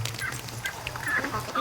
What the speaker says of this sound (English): I got some ducks over here in the mud